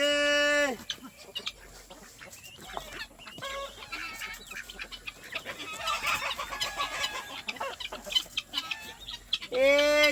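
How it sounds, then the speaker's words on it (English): Chickens on a homestead clucking and crowing, with loud rooster crows at the start and end and a busy flock clucking up close in between, while a voice talks faintly underneath. "Chickens on the roof! Chickens in the room."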